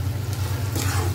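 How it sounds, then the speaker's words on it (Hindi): Tomatoes and cluster beans fry in a pan over low-medium heat, giving a soft, steady sizzle under a low hum. "इसे हम अच्छे से भूनेंगे"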